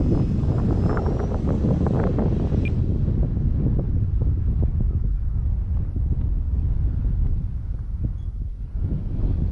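Wind rushes over an outdoors microphone while a Timber Turbo RC plane glides in with the throttle off, giving a steady loud buffeting roar with gusty thumps throughout.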